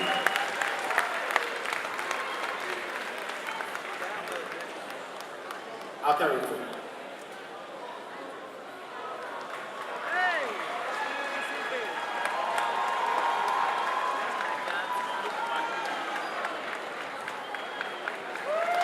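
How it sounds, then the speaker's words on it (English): Audience applause at an event celebrating an 11-year-old artist at the New Afrika Shrine, a steady crowd clapping across the whole stretch with people talking over it. "I think that deserves the biggest round of applause so far tonight for our young artist"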